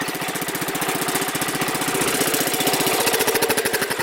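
A Gravely riding mower engine runs loud and close, chugging with a fast, even pulsing rhythm, throttled up.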